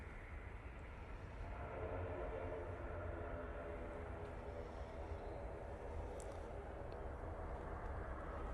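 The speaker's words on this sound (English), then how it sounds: "Decent landing there from the Virgin Atlantic." A Virgin Atlantic airliner lands at Manchester Airport, its engines making a steady, broad roar that holds at a fairly constant level throughout, with no talk over it.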